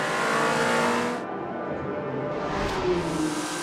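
Race cars, among them the Signatec Alpine, roar close and loud as one passes, the engine note dropping sharply partway through before the revving of the pack carries on.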